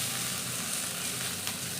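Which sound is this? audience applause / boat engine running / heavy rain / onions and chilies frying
onions and chilies frying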